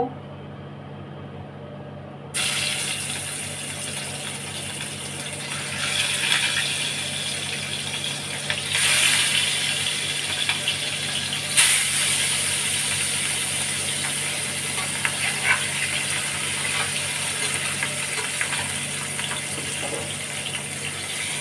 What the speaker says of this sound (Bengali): আমি মাছগুলো ভেজে নেবো।